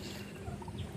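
A farm turkey gives a short, close gobble, heard alone against faint background noise.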